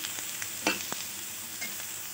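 Mutton frying in oil on a stove, a soft steady sizzle close by with a couple of light clicks from stirring, no voices.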